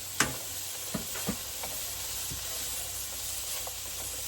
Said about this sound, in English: Now we're going to go ahead and add the sausage in there.